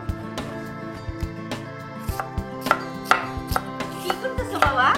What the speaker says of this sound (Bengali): পেঁয়াজ কাটি মা, পেঁয়াজ